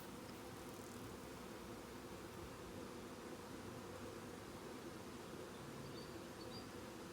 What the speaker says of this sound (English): Now I'm standing here right in the midst of these bees